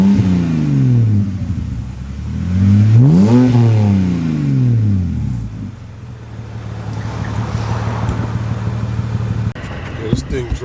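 A BMW E90 3 Series engine revs and climbs through gears while driving, pitch rising and falling in sweeps, then settling into a steady close drone.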